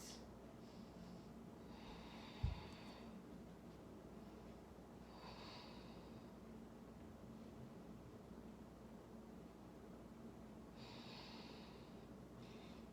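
Slow, deep breaths during a yoga session with weights, each soft airy inhale and exhale rising and fading over several seconds against a steady low hiss, with one brief thump partway through.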